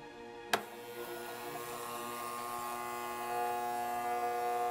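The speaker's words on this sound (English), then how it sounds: "This is a quote-unquote test for the spot welder." A spot welder heats a steel nail, starting with a sharp click and then a steady electrical buzz and hum that slowly rises in level, with no talking.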